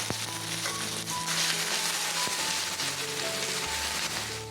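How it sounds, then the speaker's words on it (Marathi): Finely chopped onion goes into hot oil already crackling with cumin seeds and a couple of bay leaves, giving a steady, close broadband sizzle and spatter that holds level throughout with no talking. "यात बारीक चिरलेला कांदा टाकून घेते"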